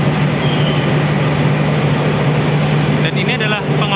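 Inside a carriage of the Motis train heading to Purwokerto, a constant loud rumbling hum with a steady low drone fills the space, and a brief voice cuts in near the end.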